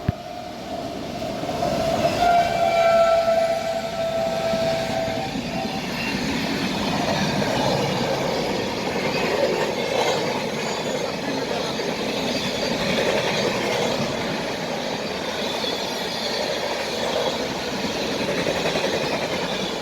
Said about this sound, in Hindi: और उधर से निकल रही है इस्लामपुर न्यू दिल्ली मगध एक्सप्रेस।